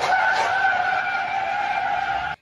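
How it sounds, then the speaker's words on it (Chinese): The tires of a white car squeal sharply as it speeds around a downhill bend on a winding mountain road, one loud continuous screech that cuts off abruptly. "轮胎摩擦路面发出尖锐的刺耳噪音。"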